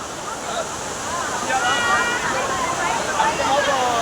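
Courtallam main waterfall pouring heavily, a steady broadband roar of falling water with rushing surf-like wash throughout, with voices talking over it.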